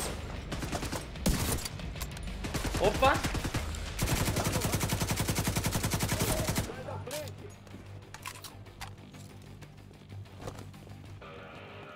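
Rapid bursts of automatic gunfire rattle loudly through a firefight in the video game Tom Clancy's The Division 2, then drop to scattered shots while a player exclaims briefly.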